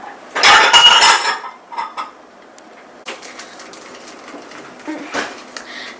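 A metal lid clatters loudly onto a pan of vegetable fried rice, followed by a few fainter clinks of pans and utensils.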